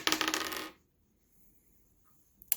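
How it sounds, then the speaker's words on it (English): Dice tumble and clatter across a table during a Dungeons & Dragons game, a loud rattling burst lasting under a second, then near silence before a brief sharp click at the end. "I'd roll the dice"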